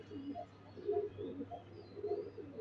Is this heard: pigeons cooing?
yes